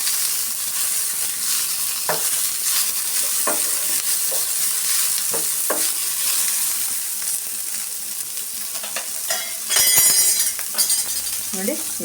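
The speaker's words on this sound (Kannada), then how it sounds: "ಪುದೀನನ್ನು ಚೆನ್ನಾಗಿ ಫ್ರೈ ಮಾಡ್ಕೊಳ್ಳೋಣ. ಪುದೀನ ಸೊಪ್ಪು ಹಸಿ ವಾಸನೆ ಹೋಗೋವರೆಗೂ ನಾವು ಫ್ರೈ ಮಾಡ್ಕೊಬೇಕು." Mint leaves fry in a pan while mutton head-and-trotters sambar is being prepared, giving a steady close sizzle with occasional stirring scrapes and light clinks of a utensil against the pan.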